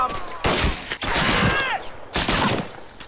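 Suppressing gunfire in a WWII video game arrives as several bursts of rapid shots separated by short gaps, with shouting voices mixed in among the firing.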